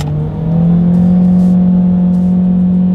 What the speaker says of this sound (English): it does get quite noisy when you really hit the gas in the HR-V